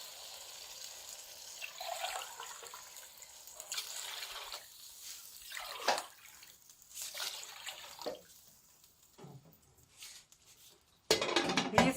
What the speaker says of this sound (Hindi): तीन से 4 मग्गे ये वाले पानी के डाल देंगे यखनी बनाने के लिए।